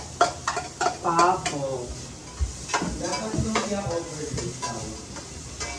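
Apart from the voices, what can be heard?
sautéing onion and garlic in a pan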